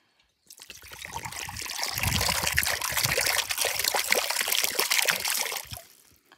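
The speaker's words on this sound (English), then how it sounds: "And now we should put the water in." Water poured from a container into a bowl: a close, steady trickling splash runs for about five seconds, then stops, with no one talking.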